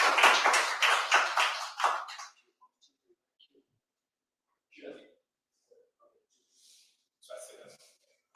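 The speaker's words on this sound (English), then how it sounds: "Kindly let us give another round of applause to the two speakers, please." Audience applause after medical talks at a pulmonology and rheumatology summit, a dense burst of clapping for about two seconds that fades out, followed by near silence with a few faint scattered sounds.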